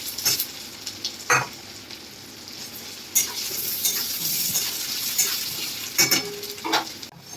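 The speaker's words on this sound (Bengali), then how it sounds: "একই তেলে আমরা আলুগুলোকে ভেজে দেবো।" Potatoes frying in hot oil, the same oil just used for frying eggs, give off a steady close sizzle, broken by several sharp clattering stirs against the pan.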